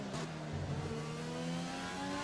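F1 2020 race car engine in the video game holding a steady high whine with a brief gear-change dip, loud and continuous, with no talk over it.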